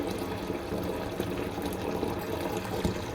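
Tap water runs steadily into a cooking pot in a home kitchen, a continuous close rushing splash that holds at an even level for the whole stretch, with no talk over it.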